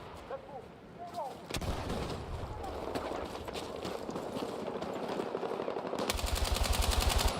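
Gunfire in the video game Battlefield 6 starts as scattered shots and builds into dense, rapid automatic bursts that grow louder toward the end, with a brief voice near the start.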